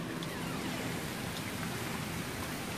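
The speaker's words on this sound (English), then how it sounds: "the wind's starting to pick up and it's raining again" Rain and wind lash down during Hurricane Irma, a dense, steady broadband wash of rainfall and gusting noise, close and unbroken, with no voices.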